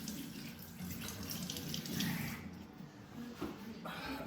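A kitchen tap runs steadily as hands are washed during meringue making, a soft close splashing hiss with faint handling noises in the background.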